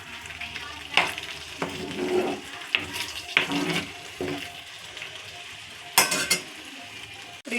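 Egg masala curry simmering in a pan, with a soft steady bubbling and sizzle, punctuated by several clinks and scrapes of a spoon stirring, fairly close and with no talking.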